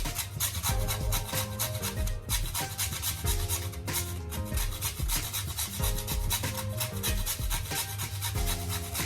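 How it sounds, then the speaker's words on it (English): Rhythmic rasping of nutmeg scraped across a grater, steady repeated strokes close by with a melodic music bed running underneath throughout. "I want to be careful when you grate in your nutmeg."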